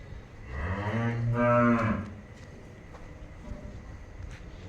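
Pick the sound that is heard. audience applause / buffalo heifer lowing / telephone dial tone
buffalo heifer lowing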